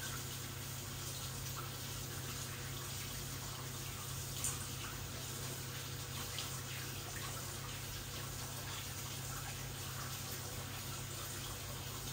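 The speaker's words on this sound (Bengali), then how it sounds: "তারপর আমি আদা লেবুটা এখন ধুয়ে ফেলি।" Ginger and lemon washed under a running kitchen tap, a soft, steady stream of water splashing close by at low volume, with no talk.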